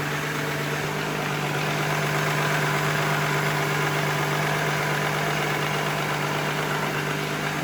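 A Volkswagen Eurovan's VR6 engine idles steadily and close by, a constant low hum with a strong fundamental tone and broadband mechanical noise running unchanged throughout, with no talking.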